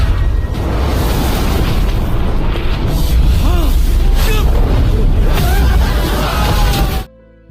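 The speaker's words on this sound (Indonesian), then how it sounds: "Serangan bersama-sama itu menimbulkan ledakan mengerikan" A loud, sustained explosion from a combined attack in an animated fantasy series roars continuously with rumbling booms and whooshing debris, then cuts off abruptly at the end.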